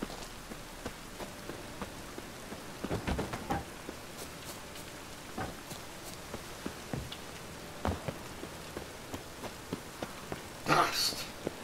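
Rain falling in The Witcher 3: Wild Hunt, a quiet, steady patter of drops on surfaces with scattered sharper taps and a brief louder splash burst near the end, faint throughout.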